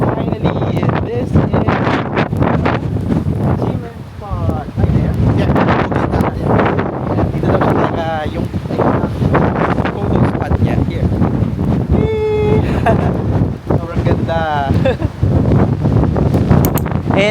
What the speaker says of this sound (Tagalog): Pero nakakatakot kasi ang lakas ng hangin.